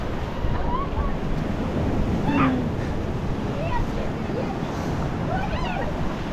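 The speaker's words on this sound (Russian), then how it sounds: "Стойте! Волны!" Ocean surf rolls in steadily on a Turkish beach during stormy weather, a continuous loud wash of waves mixed with wind buffeting the microphone, with a few faint distant voices.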